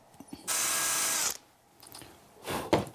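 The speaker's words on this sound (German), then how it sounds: "Jetzt bohren wir für die Luxusvariante mit den Ösen" A power drill bores holes in wood for eyelets on a wooden pillory, with one long whirring burst, then a quiet pause and a shorter second burst, heard close up and alone.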